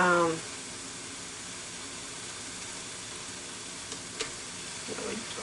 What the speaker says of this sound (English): kind of stir all that in